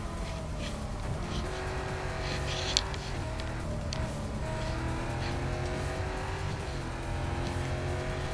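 A Corvette C7.R race car engine drones steadily in Real Racing 3, with a constant high-revving tone that shifts pitch through corners and faint tire noise, continuous and moderately loud with no talk over it.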